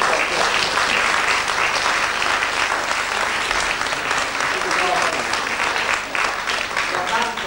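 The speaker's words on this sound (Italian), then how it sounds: "E allora voglio veramente che si faccia un applauso ad Anna Maria" Steady, dense applause from a concert audience during a piano and violin recital, filling the hall at an even level throughout with no talk over it.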